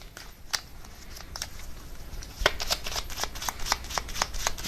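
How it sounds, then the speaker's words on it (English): Tarot cards are shuffled by hand close up, a run of crisp papery riffles and flicks that grows busier and louder toward the end, with no talking over it. "let me get one more card to clarify the Knight of Pentacles"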